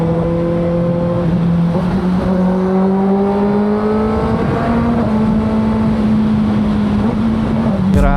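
A Kawasaki ZX6R 600cc sport bike rides along an elevated expressway, its engine note droning steadily and rising in pitch through the gears, backed by constant wind rush, with no one talking.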